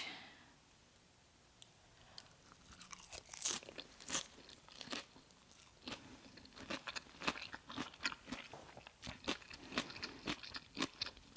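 Raw cucumber and carrot are crunched and chewed close up, with a steady run of sharp, crisp bites and chewing sounds that grows louder after a quiet start, and no talking.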